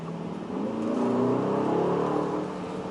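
Aston Martin DBX 707 engine and exhaust heard from inside while driving, a smooth rising rev that swells over a couple of seconds then eases back, steady and fairly close with no talking.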